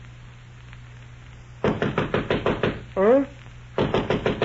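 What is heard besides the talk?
knocking on a bedroom door, radio drama sound effect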